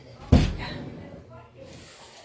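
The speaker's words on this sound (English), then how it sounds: "I have to close the door." An indoor door closed during a talk, one close thud with a brief rattle, then a fading room tail and faint background noise.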